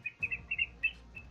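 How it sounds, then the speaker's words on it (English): Avocets call in a series of short, sharp piping notes, about six quick chirps in an uneven rhythm, clear and fairly close with no talk. "avocets"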